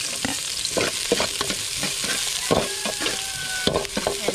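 Ginger, garlic and onion sizzle and fry in a pan for a hunt-and-cook meal, a steady close crackle broken by repeated stirring scrapes and clinks.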